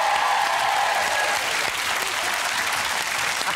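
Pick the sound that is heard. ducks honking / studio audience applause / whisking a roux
studio audience applause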